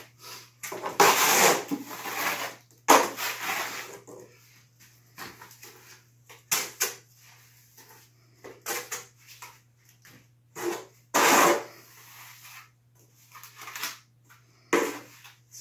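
A trowel is loaded with faux stone wall plaster. It gives several short, close scraping and scooping strokes in uneven bursts, with quiet pauses between them and no talk.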